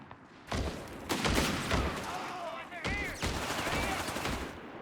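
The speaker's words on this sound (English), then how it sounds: "Machine guns over there as well." Machine gun fire rattles through a Company of Heroes 3 battle in a series of sharp bursts and thuds, some near and loud, some farther off, under the chaotic din of combat.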